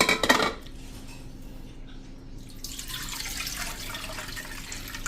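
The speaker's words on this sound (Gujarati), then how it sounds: "તો હવે આ પાણીને આપણે કાઢી લેશું" Water drained off soaked lentils in a cooking pot, starting after a brief clatter of metal utensils and then a steady, close pouring splash that runs to the end.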